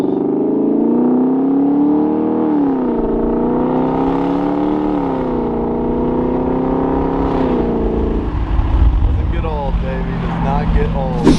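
A Lexus LS 460 engine revs and accelerates hard, its pitch climbing and dipping through several pulls, loud and close, ending with rougher higher-pitched revving.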